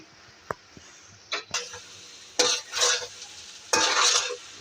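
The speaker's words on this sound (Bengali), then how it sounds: "এখন একটু পর পর আমার নাড়া দিতে হবে।" Shahi bhindi bhaji, okra, stirred as it fries in a pan, with a few separate scraping passes and a utensil tap or two over a faint steady sizzle, close and fairly quiet.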